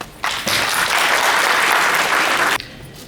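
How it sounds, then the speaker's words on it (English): Audience applause at a Canada Nepal friendship and cultural society event, a loud sustained burst of clapping from a crowd that starts abruptly, holds steady for about two seconds and then cuts off. "Let's give a round of applause."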